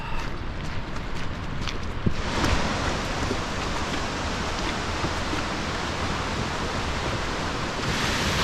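Heavy rain pours down in the Portuguese countryside near Arouca, with water running across a road, a dense, continuous hiss that grows broader after the first couple of seconds.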